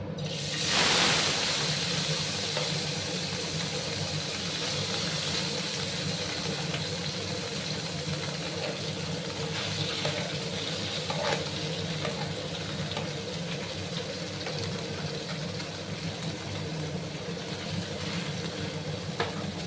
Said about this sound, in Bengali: তেলটা গরম হয়ে গেছে। এবার আমি মাছগুলো দিয়ে দেব।